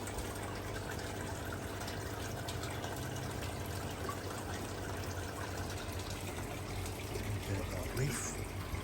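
Water trickling steadily into a koi pond, a continuous wash of splashing and bubbling that holds an even level throughout, with no clear voices.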